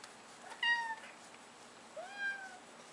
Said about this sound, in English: You've got the cutest little meow.